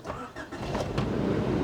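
Engine of a Rover 216i with 320,000 kilometres on the clock cranking and catching, a close, loud churn that settles into a steady idle.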